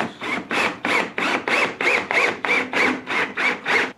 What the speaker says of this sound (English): and then tapping two holes